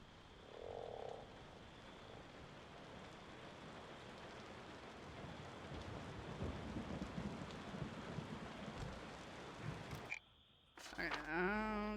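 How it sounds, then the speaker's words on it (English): Rain falls steadily in a video game for about ten seconds, a dense even hiss with low rumbling swells like distant thunder, then cuts out briefly before other game sounds return. "Seems we're in for a rainy night."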